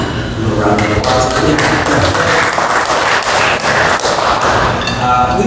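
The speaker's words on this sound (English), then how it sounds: "A little round of applause." Church congregation applauding, a loud continuous wash of clapping with scattered thumps and taps, mixed with music and some talking.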